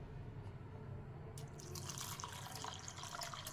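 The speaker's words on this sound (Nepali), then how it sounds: "अब म यसमा पानी राख्छु।" Water is poured into a bowl of washed lentils for overnight soaking, a steady splashing fill that starts faintly and grows louder partway through, with no voices.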